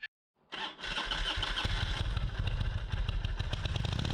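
A motorcycle engine cranks after a brief silence, catches and settles into a loud, close, steady running rumble with rapid firing pulses.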